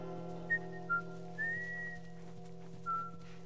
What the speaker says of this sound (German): Ich pfeife!